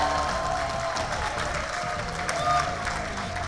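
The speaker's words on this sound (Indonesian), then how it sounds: "Tepuk tangan dulu." Audience applause at a local Indonesian wrestling event, a steady wash of clapping from a crowd that holds evenly for a few seconds, with faint voices mixed in.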